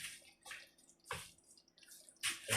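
Hot tap water splashes in bursts while rinsing in a kitchen during chicken and dumpling cooking, four separate gushes with brief pauses between, close and fairly loud.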